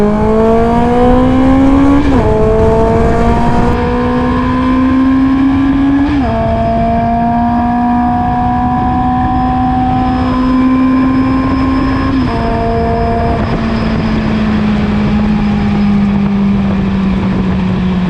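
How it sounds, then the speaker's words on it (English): A motorcycle engine runs while the bike is ridden, a loud close steady hum whose pitch climbs and then steps down at several gear changes, with wind noise underneath. "I can't, dude, I love the sound of this bike so much."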